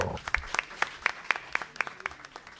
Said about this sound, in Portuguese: Uma salva de palmas, né, gente?